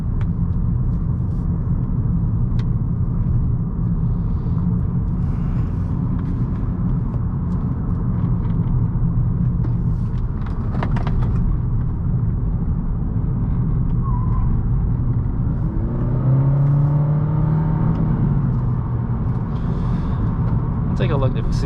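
A car is driven through the tight turns of the Tail of the Dragon mountain road, giving a steady loud engine and road rumble inside the cabin, with a brief rising tire squeal partway through.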